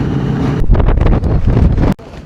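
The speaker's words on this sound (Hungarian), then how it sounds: "Rettenetesen nagy szél fúj" Heavy gusting wind at Vestkapp, Norway buffets the microphone in loud, rumbling bursts, then cuts off sharply near the end.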